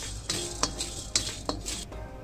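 Whole spices are dry-roasted in a kadhai, with a spoon or spatula scraping and knocking against the metal pan in several sharp, irregular strokes over a low steady hiss.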